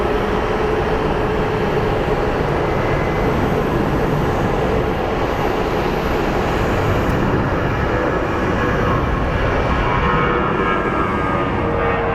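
An airliner on the Reno flight at Phoenix Sky Harbor produces a dense, constant loud roar of jet engine noise that holds evenly throughout, with no talking.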